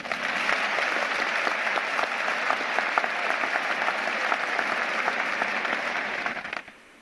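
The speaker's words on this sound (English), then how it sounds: "give yourselves a round of applause" An audience at a graduation ceremony breaks into sustained, dense applause, steady for several seconds before tapering off quickly at the end.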